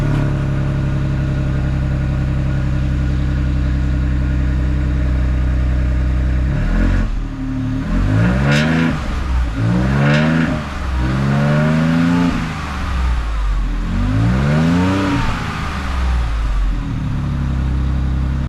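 A Ford Bronco fitted with an aFe Power cat-back exhaust revs outdoors in freezing cold, a steady idle rumble broken by four or five sharp throttle blips that rise and fall close by.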